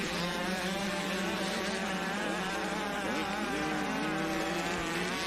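A motocross bike screams at full throttle at the NYS Motocross Championship at High Voltage Hills MX. The loud, high-pitched engine note runs continuously and wavers slightly in pitch, with no voices.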